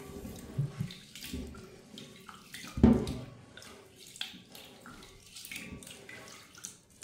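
Rice washed in water for cooking in South Korea, with irregular close sloshing and swishing, one louder splash in the middle, and the trickle of running tap water.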